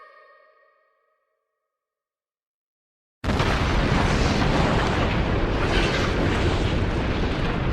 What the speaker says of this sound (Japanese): 気化爆弾に似た爆発で急激な気圧の低下